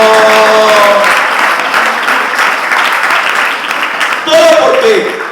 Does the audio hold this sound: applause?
yes